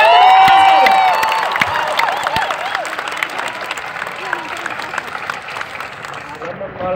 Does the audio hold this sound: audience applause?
yes